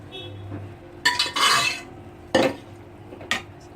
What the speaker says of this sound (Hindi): इसको अच्छे से हम मिक्स कर देते हैं।